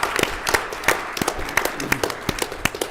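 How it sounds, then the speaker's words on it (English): Scattered hand claps from family members in the audience at a village council reorganization meeting, sharp and uneven, forming a brief, thin round of applause with no talking. "round of applause to you."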